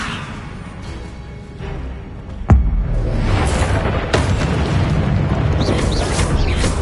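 A Confringo explosive spell in the Hogwarts Legacy video game goes off as one loud, abrupt boom midway, followed by a dense, sustained rumbling roar of fire and debris over steady game ambience. No voices.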